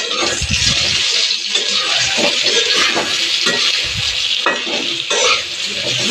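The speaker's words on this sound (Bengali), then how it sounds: "এই পটলটা আমি সুন্দর করে ভেজে নেব।" Pointed gourd (potol) pieces frying in oil with turmeric, a loud continuous close sizzle broken by repeated scraping stirs and occasional clinks of utensil against pan.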